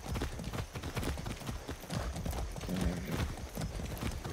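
Horse hooves clip-clop at a steady riding pace in the video game Far Cry 6, a busy run of soft thuds at moderate distance over faint background ambience.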